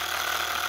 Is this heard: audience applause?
no